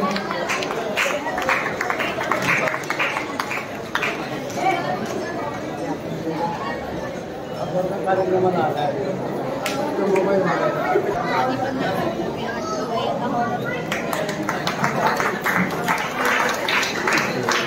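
Loud, continuous crowd noise at a Marathi cultural event in Dadar, Mumbai, with applause and chatter blended into a steady wash that lasts throughout.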